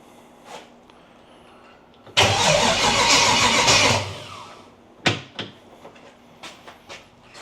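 A T-bucket hot rod engine, not run for a couple of weeks, cranks and roars to life for about two seconds, then cuts out, followed by a few sharp knocks and clunks.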